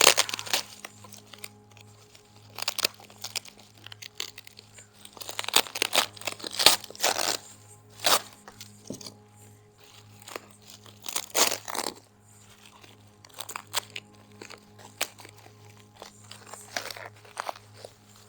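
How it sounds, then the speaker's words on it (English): Packaging being unwrapped from a carbon fiber car part for a Mercedes E63 AMG S, loud close crinkling, crunching and tearing of wrap and tape in irregular bursts over a faint steady hum, with no talking. "Let me see if there's this side that I have to unwrap."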